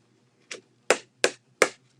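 Thick cardstock-weight craft paper gives four crisp, separate flicks or taps spaced about a third of a second apart, close and quiet, against a faint low background hum with no talking.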